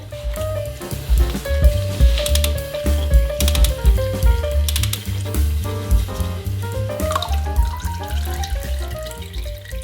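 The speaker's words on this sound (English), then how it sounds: "So now that the oil is draining, the oil looks good." Warm engine oil drains from a Yamaha XS650 motorcycle in a continuous liquid pour and trickle, steady and close, with a low rumbling hum underneath.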